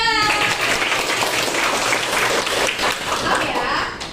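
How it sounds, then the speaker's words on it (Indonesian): A classroom of students claps together in a steady stretch of dense applause, close and fairly loud, lasting the whole few seconds. "Oke, tepuk tangan."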